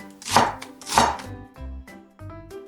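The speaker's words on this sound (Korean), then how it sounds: "양파 반 개도 채 썰어 주세요." Knife strokes slice half an onion into thin strips on a cutting board: two sharp, crisp cuts followed by several softer, duller taps, close and clear with no talking.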